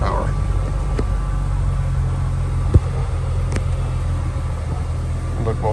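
A Jeep Rubicon's engine drones low and steady as it drives along a road, heard from inside the cab, with a faint knock or bump partway through and someone talking over the hum.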